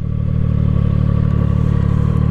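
A CF Moto 675 SR-R motorcycle engine runs at a steady idle, giving a deep, even, close-up throb with a constant rumble throughout and no voices.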